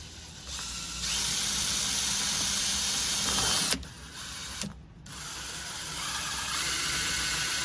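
Hole saw on a drill cutting through a plastic rain collection container, a steady loud grinding whir with two brief pauses before the cutting resumes.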